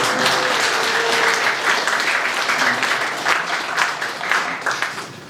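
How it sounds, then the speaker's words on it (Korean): A congregation at an Anglican Eucharist service in a Ganghwa church gives a sustained round of applause that stays dense and even, then fades slightly toward the end. "박수 한번 주세요"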